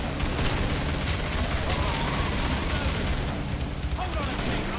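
Dense, continuous gunfire in Killing Floor, rapid overlapping shots that blend into a loud, unbroken roar with no pauses across the whole stretch.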